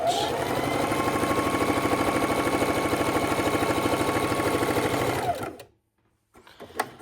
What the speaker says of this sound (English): on our sewing machine, I want to start about in the center of our fabric